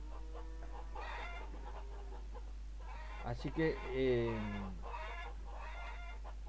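Chickens cluck in the farming game Farmers Dynasty, a short hen call rising over a steady low hum while someone speaks Spanish nearby.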